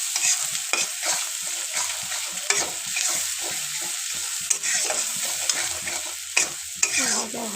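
Chilli powder fries in a pan for a spicy eggplant curry, with a continuous close sizzle broken by repeated sharp scrapes and knocks of a spoon stirring. No one speaks.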